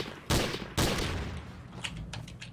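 Heavy gunfire bursts in the shooter game Trouble in Terrorist Town: two loud, close broadband blasts early on, followed by a string of quieter, sharper shots trailing off toward the end.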